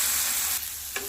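Tomato fries in a pan for soya Maggi noodles, a loud, dense sizzle that drops to a quieter hiss midway, with one small clink near the end.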